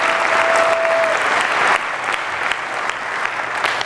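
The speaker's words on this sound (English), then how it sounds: "So y'all give him a round of applause." Applause for a man at an old-school church service fills the space, a dense steady patter of many hands that eases slightly after a sudden dip midway, with a faint tone early on.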